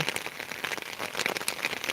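Heavy rain pours down in Beed during flooding, a dense, steady patter of drops on surfaces, close and continuous with no voices.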